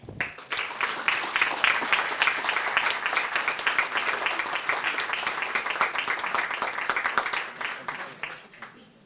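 A breakfast audience at a business recognition event gives Megan Construction a round of applause, a dense burst of many hands clapping that starts suddenly, holds steady for several seconds, then tapers off toward the end.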